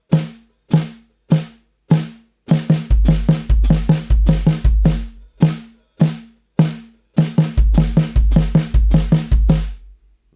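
A drum kit plays a steady groove: bright hi-hat quarter-note pulses with bass drum, then shifts into a fuller triplet feel with heavier low kicks, loud and close.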